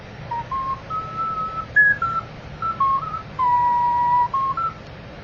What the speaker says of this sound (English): this is a pendant ocarina in a teardrop shape